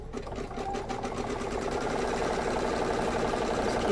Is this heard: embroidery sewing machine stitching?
yes